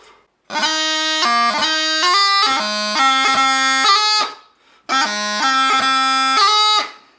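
A bagpipe plays a short melodic phrase from the 6/8 tune Queen Elizabeth's March over its steady reedy drone, stops briefly, then repeats part of the tune, bright and close.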